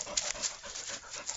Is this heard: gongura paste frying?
no